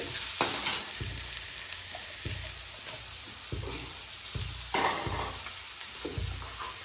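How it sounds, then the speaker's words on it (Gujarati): Onion and capsicum stir-frying in a hot pan, a steady sizzle broken by repeated scraping strokes of a spatula at roughly one-second intervals, close and without talk. "નાખી દઈએ કેપ્સિકમ મરચા"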